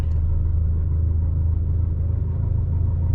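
A turbocharged car engine idles steadily after starting, a low, continuous rumble close by with no talk over it.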